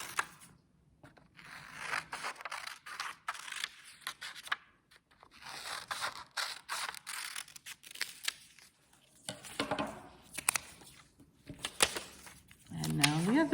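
Paper being cut with scissors along straight lines to make a flip book, snipping and scraping in short irregular bursts at close range with quiet gaps between cuts.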